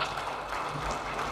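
Audience at a cultural congress ceremony applauds as a Batak literature lecturer stands, a brief, fairly quiet wash of many hands clapping in a hall.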